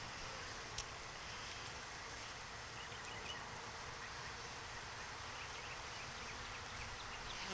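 Honey bees buzz steadily around an open, gentle hive that is being moved from a toppled mating nuc, a dense, even drone that holds at a constant low level throughout, with no talk.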